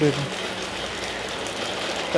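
Rain at night falls directly onto an action camera outside a hospital, producing a steady, close wash of broadband hiss that stays even for about two seconds.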